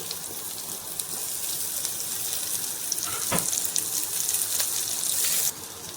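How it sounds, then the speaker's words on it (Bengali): Chopped onion sizzling in hot oil already seasoned with dried red chilli, cumin and bay leaf, a steady loud hiss that swells with a brief burst of stirring, heard alone close up. "এবারে দিয়ে দেব পেঁয়াজের কুচি।"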